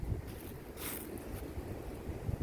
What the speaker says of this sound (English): We haven't had wind gusts this bad in a while.